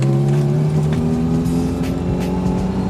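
A Reliant Robin three-wheeler's small engine drones steadily while driving, a loud continuous hum with a steady pitch and light road noise, heard from inside the cramped cabin with no talking.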